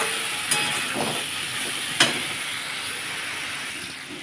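Malabar spinach greens with prawns and a teaspoon of cumin powder sautéing in a pan, a steady close hiss and sizzle with two brief sharp clicks.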